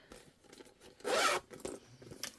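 A zipper on a clear vinyl beauty bag zips in one quick, fairly loud pull lasting a fraction of a second, framed by quieter handling rustles before and after, with no talking.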